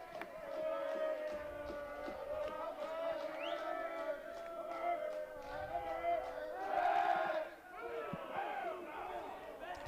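Crowd noise at a college baseball game between Coastal Carolina and East Carolina on a chilly Friday afternoon. A steady murmur of voices and shouts swells briefly in the middle, with chatter nearby.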